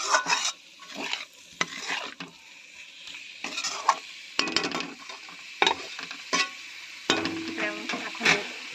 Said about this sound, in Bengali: আবারও একটু ঢাকা দিয়ে রাখবো একটু নাড়াচাড়া করে ঢাকা দিয়ে দেবো